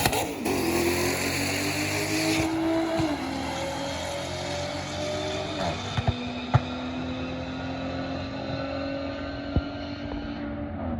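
A tuned Audi with an Integrated Engineering Stage 3+ setup and upgraded injectors, running E70, launches down a quarter-mile drag strip spinning all four tires, with a sustained loud engine drone and whine, climbing gear by gear.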